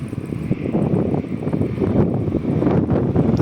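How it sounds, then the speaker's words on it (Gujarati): Strong wind gusting outdoors near trees, roaring and buffeting the microphone in a dense, loud rumble that persists without pause and with no audible voice. "હવામાં તમને મારો અવાજ તો આવતો નહીં હોય પવનનો જ આવતો હોય અવાજ"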